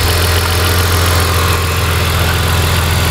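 A used car's engine runs steadily at close range, a loud, constant low rumble with an even vibration and no pauses.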